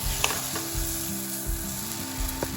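Curry masala sautéing (kosha) in a pan with a little water added, a continuous loud sizzle with repeated low stirring scrapes throughout.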